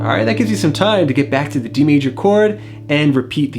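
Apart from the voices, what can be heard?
None of the usual background noises is heard.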